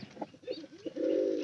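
Pigeons kept as a pair with chicks coo in a few short burbling phrases, then a sustained throaty coo swells near and clear at the end, with no talk.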